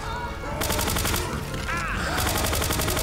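Gunfire aimed at the Tank in Left 4 Dead 2, rapid rhythmic bursts of automatic shots coming in two long runs, close and fairly loud over game noise and music.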